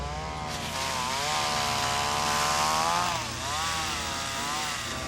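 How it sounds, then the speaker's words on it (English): A cartoon chainsaw buzzes steadily, its pitch rising and dipping as the engine revs, heard at moderate distance without talking. "That's a chainsaw!"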